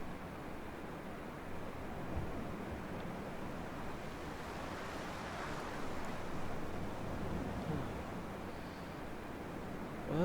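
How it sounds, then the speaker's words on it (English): Steady ocean surf and wind roll on through the windswept Hebridean island setting of the video game Dear Esther, a constant broadband wash with gentle swells and no voices. "I guess we can only listen to ocean sounds for so long."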